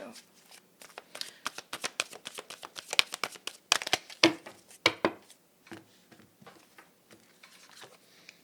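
Art of Manifestation oracle cards being shuffled by hand, a rapid run of crisp riffling snaps and flutters that grows busier midway and then thins out, close and alone with no talk.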